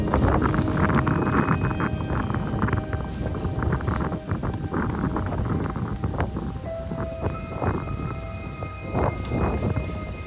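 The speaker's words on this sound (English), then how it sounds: "It's windy." Wind gusts among trees near Fort Knox, Kentucky buffet the microphone, with rumbling, uneven bursts of noise throughout and no clear talking.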